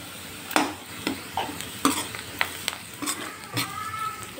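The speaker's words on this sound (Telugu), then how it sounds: "ఇక్కడ ఆనియన్స్ కూడా ఫ్రై అవుతున్నాయి" Onions frying in a pan with turmeric about to go in, a low steady sizzle broken by repeated sharp scraping and clinking strokes of a spoon stirring against the metal at a fairly regular pace.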